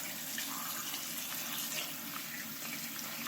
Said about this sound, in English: rinse that under ice cold water and squeeze it in the water as the water's running over it